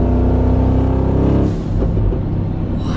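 Mansory G63 Star Trooper pickup, a modified Mercedes G-Wagon, with its engine droning loudly and then easing off into a rougher, lower rumble, close up with no talking.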